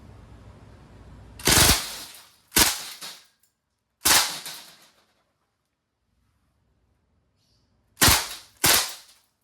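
Five sharp, loud pneumatic shots from a Crosman R1 airgun rifle, a pair, a single, then another pair, each with a brief decay and near-silence between.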